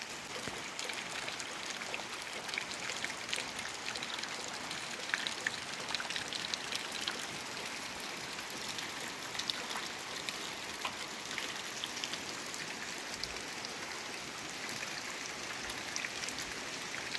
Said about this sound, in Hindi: फिर से बारिश शुरू हो गई है